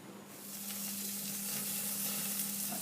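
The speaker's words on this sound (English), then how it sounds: "What you can do is sprinkle a little bit of extra virgin olive oil on your steak while still on the fire." Steak drizzled with extra virgin olive oil sizzles steadily over a burning oak wine stave, a dense continuous frying hiss that swells slightly and holds, close and alone.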